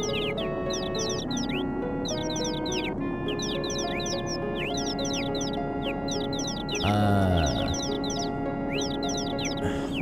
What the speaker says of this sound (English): Oh, I found some birds! That's why I heard the chirping.